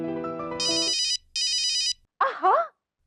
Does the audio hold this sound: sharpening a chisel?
no